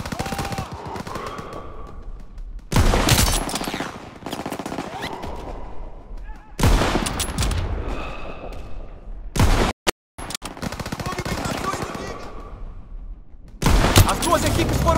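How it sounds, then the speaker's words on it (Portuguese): In Call of Duty WWII, an enemy gunner fires at tanks, producing loud, dense bursts of machine-gun fire that come in long waves with battlefield rumble between them and occasional voices underneath. "Tá atirando nos nossos tanques!"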